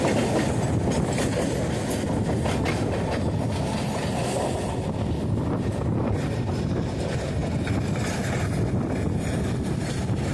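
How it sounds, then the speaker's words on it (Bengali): A goods train rolls steadily through Chengail station at close range, a continuous loud rumble with clickety-clack of wagons over the rails and some wind buffeting, and no talking. "মালগাড়ি দেখো ক্রসিং হয়ে গেল"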